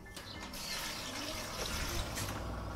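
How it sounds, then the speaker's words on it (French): Water runs steadily into a pot for a French base sauce with bay leaf and garlic in a restaurant kitchen, a continuous hissing, gurgling pour at low level with no talking. "Là, il faut remplir de l'eau jusque là."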